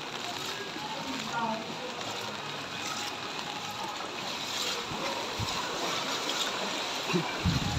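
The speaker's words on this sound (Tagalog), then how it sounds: "Hello guys, ito umuulan na. Hanggang ngayon baha pa rin." Floodwater sloshing and flowing through a street during rain, a steady wash of water noise with occasional splashes, and a voice speaking over it.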